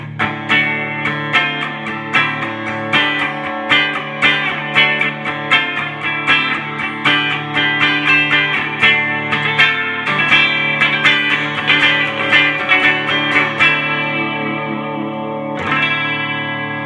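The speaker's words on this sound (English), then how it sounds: "that's no distortion on this guitar, but it sounds like a rhythm guitar" A clean, undistorted Gibson SG electric guitar strums a rhythmic pattern of ringing chords through a compressor, with an even attack and a light reverb tail, ending on a sustained chord.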